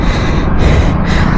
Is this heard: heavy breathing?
yes